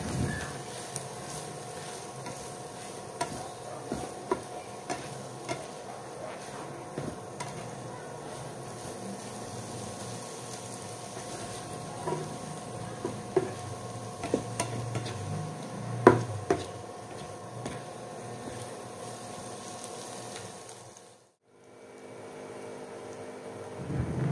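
Sisig ingredients being stirred together in a pan, a steady soft scraping and faint sizzle running throughout at low level, with scattered clicks of the utensil and a brief drop to near silence toward the end.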